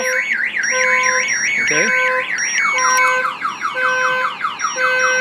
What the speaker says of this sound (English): if anybody walks up and basically bangs on the window, the alarm will fire off